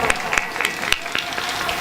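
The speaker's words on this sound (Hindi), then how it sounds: "भैया जी के स्वागत के लिए जोरदार तालियां बजाएंगे" An audience at a Hindu religious gathering claps to welcome a guest, sharp scattered hand claps of moderate loudness ringing out over a busy, echoing hall background.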